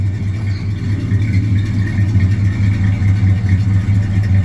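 A 1978 GMC truck engine runs steadily at the exhaust, a deep low rumble with a constant throb, close and loud with no voices.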